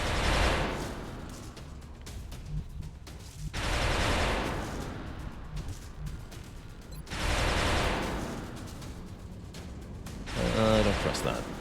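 A giant gun lays down suppressing fire in XCOM: Enemy Unknown, loud sustained bursts of rapid shots in three long rolling volleys separated by short gaps, with a brief mechanical whine at the end.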